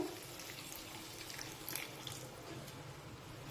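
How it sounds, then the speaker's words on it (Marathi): A steady, faint trickle of water pours continuously into a pot of moth bean lentils, a soft liquid splashing with no voices. "आता यामध्ये डाळीच्या अंगाबरोबरच पाणी टाकू"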